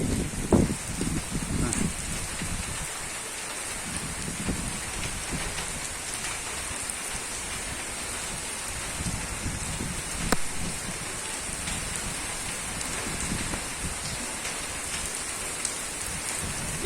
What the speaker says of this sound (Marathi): हे इकडे पाऊस